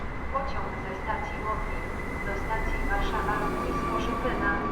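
A Koleje Mazowieckie Stadler FLIRT electric train rolls past a station platform in Warsaw, a steady loud rumble with a whining electric motor tone sustained throughout.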